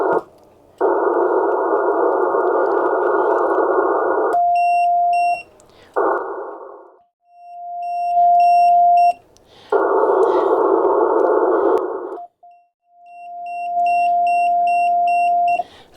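An amateur radio transceiver sends a steady, loud CW tone in long stretches that alternate with harsh bursts of static, while faint high beeps chirp in between.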